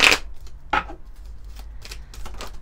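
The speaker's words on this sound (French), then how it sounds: "on va prendre quelques cartes du petit oracle du pays des contes" A small fairy-tale oracle card deck being shuffled, giving a few short papery riffles and flicks spaced across a quiet moment, close and fairly soft.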